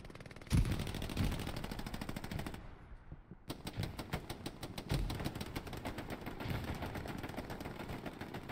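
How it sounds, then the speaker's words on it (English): Sustained automatic gunfire in Hell Let Loose, rapid bursts fired from a hedgerow across open ground, loud and close, with a brief lull midway before the rattling fire resumes and continues steadily. "Danny just firing into the open from the hedgerow"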